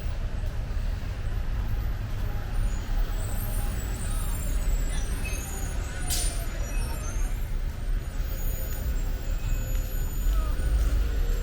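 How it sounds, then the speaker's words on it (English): Bright green Lynx shuttle bus passing along a busy roadside, a broad continuous rumble of heavy engine and tyre noise mixed with traffic, with a brief hiss partway through and voices talking over it. "That bright green bus, shuttle bus, is a Lynx bus."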